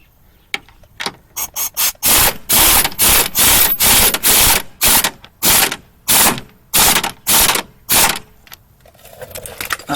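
Loud impact wrench rattling in repeated short bursts, tightening a bolt on a 2005 Honda Pilot during a rear-end repair; about a dozen sharp, evenly spaced blasts with brief gaps, close to the listener.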